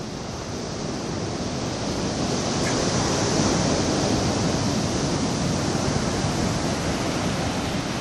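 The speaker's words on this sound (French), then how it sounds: "Voilà les vagues de tout à l'heure vues de loin." Ocean surf at the mouth of the Rivière des Galets on Réunion, heard from a distance as a steady, dense roar of breaking waves with wind, continuous and loud with no voices.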